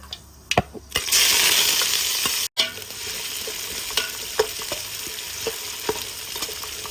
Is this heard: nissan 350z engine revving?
no